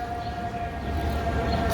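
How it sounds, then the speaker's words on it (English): An ambulance siren sounds in downtown Chicago as a steady, sustained wail, somewhat distant, under continuous city traffic rumble. "That's why you hear all the ambulances and everything."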